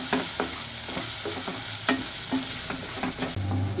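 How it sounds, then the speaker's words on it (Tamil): Masala for Chettinad prawn thokku is stirred and sautéed in a pan over a low flame, a soft continuous sizzle broken by repeated scraping strokes of the spoon at an uneven rhythm, close by and without talk. "இந்த பச்சை வாசனை போகிற வரைக்கும் ஒரு 4-5 நிமிஷம் கிட்டத்தட்ட அப்படியே அதை லோ ஃப்ளேம்லேயே அப்படியே வதக்கி விடுங்க"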